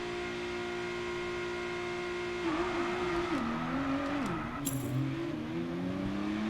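F1 race cars in the F1 22 video game at the Abu Dhabi GP race start, engines holding a steady drone then revving up sharply with rising and dipping pitch as they accelerate, close and steady, no talking.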